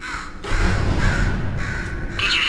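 A crow caws several times in Portal 2, loud harsh calls in a rough repeating rhythm over a low rumbling game backdrop.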